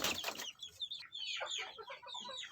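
A brooding village hen in a simple backyard coop gives a close series of soft clucks and short vocal calls, with no one speaking.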